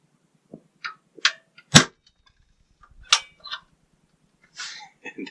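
A Ramset powder-actuated nail gun fires once into a wall, a single sharp crack near the two-second mark, fairly quiet, followed by a few smaller clicks and handling knocks.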